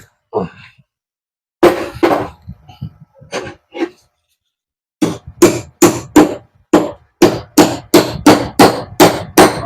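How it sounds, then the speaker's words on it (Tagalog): Hammer blows tap an electric fan's winding part back into place: an irregular few strikes, then a steady run of about a dozen sharp, loud, close impacts in quick even rhythm. "Papaluin natin to pabalik"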